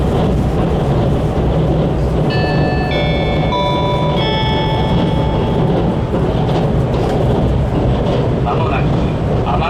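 An Inaho limited express train runs along the Japan Sea coast from Akita toward Tokyo, with a continuous loud rumble of wheels on rails and a short series of bright chime tones partway through.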